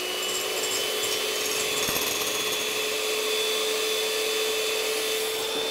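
A high-speed electric whisk whips egg whites in a clean bowl, a steady, close, unbroken whirring hum with a thin high whine, and no talk.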